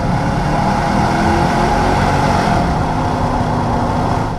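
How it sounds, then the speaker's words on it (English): A 2003 Cadillac Escalade with the 6.0-litre LQ9 V8 and all-wheel drive accelerating on a test drive, a steady loud engine drone heard from inside the cabin with road noise beneath. "Let's see what the all-wheel drive LQ9 does."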